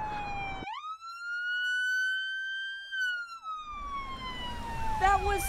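A police car siren gives one long, loud, close tone that rises, holds and then slides down, with a short burst of a second siren pattern near the end.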